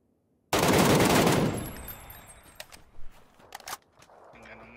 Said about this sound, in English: This is like the best gun on PUBG.